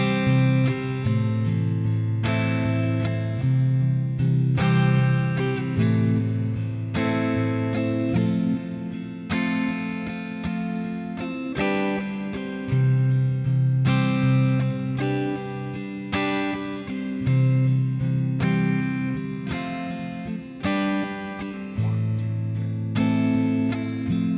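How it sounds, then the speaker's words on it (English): Guitar strumming a chord progression with all downstrokes, full ringing chords struck in a steady even rhythm for over twenty seconds, close and alone without voices. "if we were just strumming everything with downstrokes, it would sound like this"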